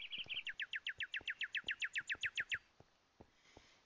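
A small bird in the video game Minecraft gives a rapid, evenly spaced run of about fifteen high, bright chirps, close and clear, then stops, leaving a few faint clicks in the quiet.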